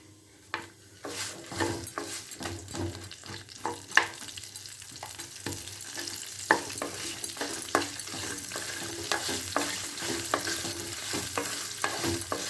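Onions sizzle steadily in a pan, cooking until lightly glassy for a scarlet gourd coconut milk gravy, while a utensil scrapes and clicks against the pan in irregular strokes, close and fairly quiet, with no talking.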